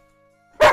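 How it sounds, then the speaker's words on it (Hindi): A 10-month-old long-coated German Shepherd lets out a single loud, close bark at the end, after a stretch of near silence with a faint steady hum. "बहुत ही भौंक रहा है अभी"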